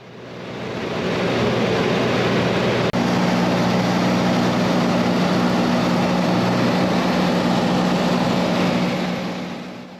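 Steady engine drone inside a small plane flying over the Nazca Lines, a continuous loud hum with a low tonal buzz that holds without change, no voices over it.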